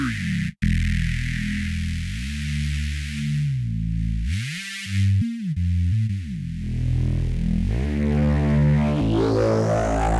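A synth tone runs through a Valley band-reject filter with dual resonance. The sustained buzzy tone has its notch swept and reshaped over about ten seconds, with a brief dropout near the start and no talking.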